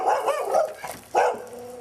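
A puppy barks close by in two short bursts of yippy, high-pitched barking, separated by a brief pause, with no speech over it.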